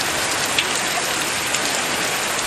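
Heavy rain pours steadily in a rural area, a dense, loud, continuous hiss of falling water with scattered louder drops.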